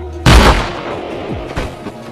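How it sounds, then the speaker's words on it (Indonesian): A single loud gunshot from a film cracks out sharply, followed by a rolling, echoing boom that fades over about two seconds. "driver pun menembaknya"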